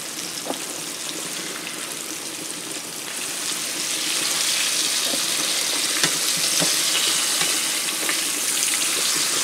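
Pork chops dredged in seasoned flour fry in a hot pan with a steady, dense sizzle that grows louder partway through, with a few light clicks and scrapes and no talking.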